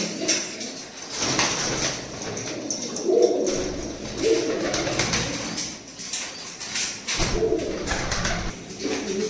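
Andhra breed pigeons in a loft coo in soft, repeated throaty calls at close range, with a few sharp rattling knocks and background clatter between the coos.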